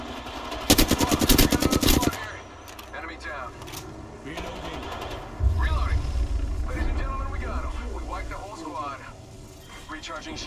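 Rapid automatic gunfire bursts in the Apex Legends battle royale game, a loud dense volley near the start followed by quieter scattered shots and game effects, with a voice talking throughout.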